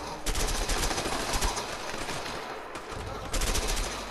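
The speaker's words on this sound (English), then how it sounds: "Ow, ow, oh god, they're shooting me." Rapid bursts of automatic gunfire in the video game A Way Out, dense and loud, pausing briefly midway before resuming.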